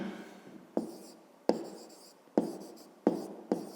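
Pen or chalk strokes sound close up as someone writes out a 5th-grade maths exercise. Sharp taps mark the start of each of five rhythmic scratching strokes.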